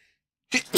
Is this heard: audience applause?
no